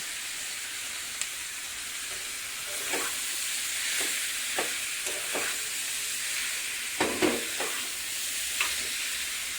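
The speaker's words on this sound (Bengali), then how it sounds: "এবারে চিকেন কিমাটা আমি এবার এর ওপর থেকে দিয়ে একটু হালকা হালকা করে ভেজে নেব" Chicken mince sizzling lightly in a pan over tempered spice powder, a steady hiss broken by occasional scraping clicks as it is stirred, close up, with no talking.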